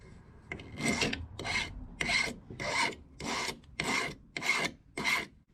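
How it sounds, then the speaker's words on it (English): A file rasps the end of a sterling silver wire being drawn through a draw plate, eight rhythmic, evenly spaced strokes, close and fairly quiet, with no voices. "Every time it goes through one of those holes, I will file out the end of it"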